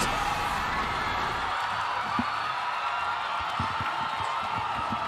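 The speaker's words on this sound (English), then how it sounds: "Hear the crowd roar." A large arena crowd roars steadily at an MPL Philippines Mobile Legends esports playoff match, a dense, sustained wash of cheering and whooping with no pauses.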